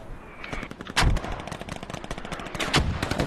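Rapid bursts of gunfire fill the Squad video game battle, with automatic rounds cracking in quick, uneven volleys and one heavier blast near the start.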